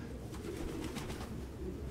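Pigeons cooing in the Detroit: Become Human video game, soft low coos repeating over a steady ambient hum, faint and somewhat distant, no speech over them.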